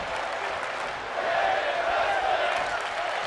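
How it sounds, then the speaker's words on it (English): Crowd in a wrestling arena in the WWE 2K25 video game, a continuous roar of cheering and clapping that gets a little louder partway through, with no voices heard over it. "Again, the crowd making noise."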